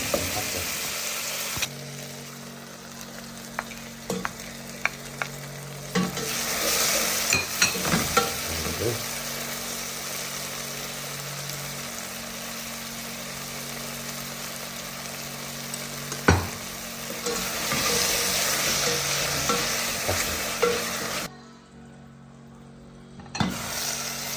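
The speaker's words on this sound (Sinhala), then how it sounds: "කුරුඳු පොත්තක් මේ ටික හොඳට දාලා කලවම් කරලා හොඳට බැද ගන්නවා" Whole spices with a piece of cinnamon bark stirred and frying in a pan, a steady close sizzle broken by scraping spoon knocks, briefly quieter near the end, with no talking.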